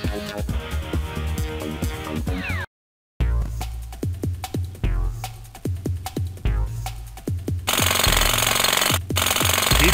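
A loud jackhammer-style drill breaks through a floor in the Rescue Heroes: Hurricane Havoc video game, a rapid pounding repeated in bursts with a short silent gap, then a steady harsh roar.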